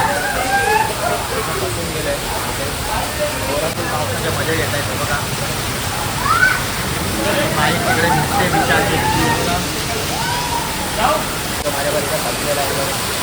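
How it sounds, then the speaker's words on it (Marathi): Heavy rain pours steadily during a night downpour with thunder and lightning, a dense continuous hiss close by, while several people talk and call out over it throughout. "मजबूत बारिश आया"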